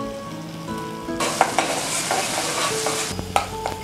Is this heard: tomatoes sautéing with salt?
yes